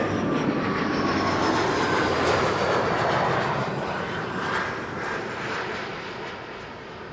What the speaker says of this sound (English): Embraer 175, KLM flight 1352, arriving from Prague in the Czech Republic